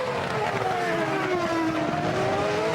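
Formula One cars racing at the 2006 Canadian Grand Prix, heard as a steady, fairly distant high engine whine that slides gradually lower in pitch, with no talk over it.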